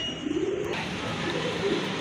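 Koka-breed pigeons being sold give soft, low cooing in short murmurs, faint and somewhat buried under a steady background hiss and hum.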